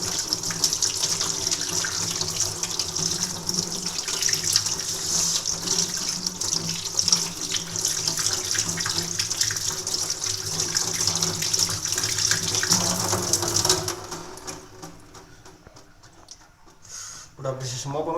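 A household tap runs steadily while hands are washed at a sink, a continuous close splashing hiss that stops near the end, leaving a quieter room.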